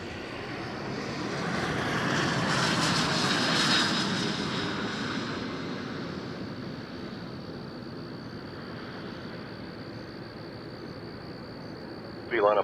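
Airliners at Toronto Pearson Airport on a Friday night: a loud, steady roar of jet engines swells and fades as a plane passes nearby, with a sharp noise at the very end.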